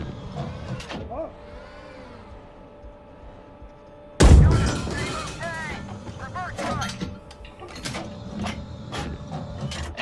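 A tank cannon fires in the GHPC tank simulator game, a single loud, sudden boom midway with a rumbling tail, set among quieter mechanical turret and interior hums. A voice speaks over the scene.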